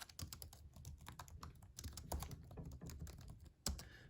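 Quiet, rapid keystrokes on a computer keyboard as a name is typed in, an uneven run of soft clicks with a slightly louder tap near the end, no talking.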